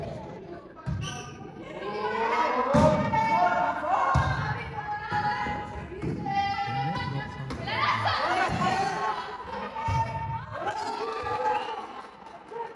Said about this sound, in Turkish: Tezahüratlar yapıyorlar.